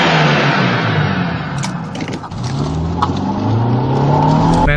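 A motorbike engine runs loud and close, revving with rising and falling pitch as it pulls away and accelerates, alone without any talk.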